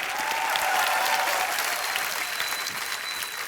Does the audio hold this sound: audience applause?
yes